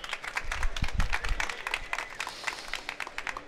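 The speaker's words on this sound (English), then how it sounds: "Give him a round of applause." Scattered clapping rises from an audience at the SIGGRAPH 2017 conference, loosely timed, not very loud and somewhat distant, and it fades out over a few seconds.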